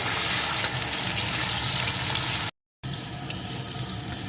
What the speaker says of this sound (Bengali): এখন আলুটাকে প্রথমে সুন্দর করে ভেজে নেব